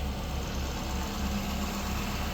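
A 2015 Ford F550XL flatbed ramp truck engine idling outdoors, a steady low rumble with even throb, fairly loud and close, nobody talking.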